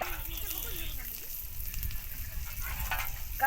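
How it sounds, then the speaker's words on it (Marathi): Steady sizzle of onions frying in a pan throughout, with a voice talking over it partway through. "जास्त लाल भाजायचं नाही कांद्याला"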